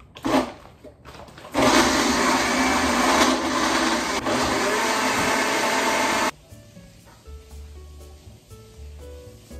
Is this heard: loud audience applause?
no